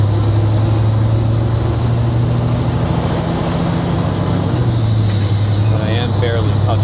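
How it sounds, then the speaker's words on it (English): Kenworth W900 truck engine droning steadily at low pitch from inside the cab, loud and constant, with the revs shifting slightly near the end. "Still have to rev the RPMs out a little bit."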